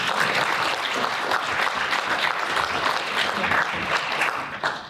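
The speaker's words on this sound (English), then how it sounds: "Thank you, Frank, for clapping." An audience claps steadily at a health talk, dense close applause lasting nearly five seconds before tapering off at the end.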